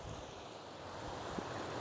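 Blue River water by a breakwater, a steady broadband rush of flowing water mixed with some wind, continuous and fairly even with no talking.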